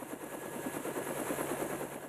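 A helicopter flies overhead, carrying a father home to Sorsogon with his son's body after a fatal mountain climb; a steady, fairly loud rotor chop pulses rapidly throughout with no voices.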